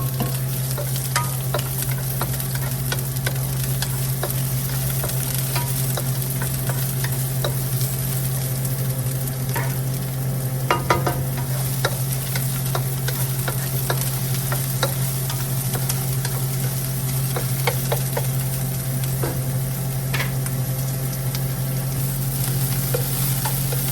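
Chopped onion and garlic sauté in a hot pan with a steady, close sizzle and crackle, as a utensil stirs and scrapes now and then over a constant low hum, with no voices.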